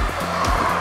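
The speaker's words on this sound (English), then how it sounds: "this is the 3-cylinder engine that makes 74 horsepower and 110 Newton meters of torque" Volkswagen Ameo compact sedan's 74 hp three-cylinder petrol engine running, a steady close engine drone with low rumble and a brief rise in tone midway, no talking over it.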